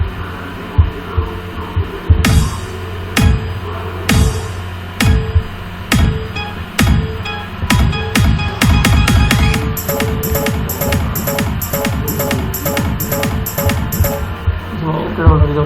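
A DJ remix beat pattern playing back from music software: thumping kick drums with a steady hum, building into a dense, fast run of rhythmic hits that keeps going to the end, fairly loud and with no talking.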